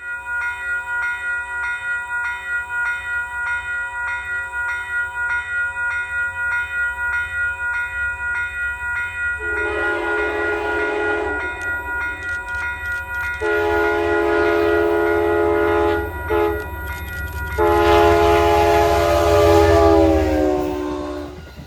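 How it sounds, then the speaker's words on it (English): An Amtrak Empire Service train out of Albany, bound for New York's Penn Station, rolls south past Manitou station near CP46, its horn sounding loudly in several long blasts over the steady rumble of the passing cars. "Our first train to roll by south is an Amtrak Empire Service train out of Albany, bound for New York's Penn Station"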